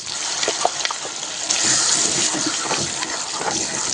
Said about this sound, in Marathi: मिक्सर धुवून आपल्याला पाणी घालून घ्यायचं